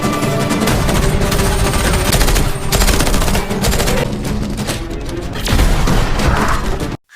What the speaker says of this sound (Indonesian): Mereka terlibat dalam baku tembak melawan anak buah Nick.